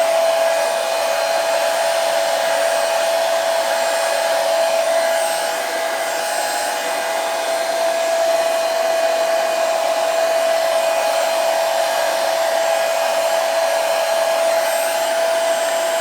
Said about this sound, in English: Now I just want to heat these legs up.